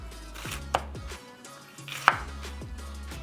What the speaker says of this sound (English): Let's go focus on the chopping the onion